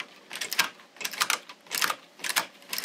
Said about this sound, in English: it's easier to push all the needles out to the D position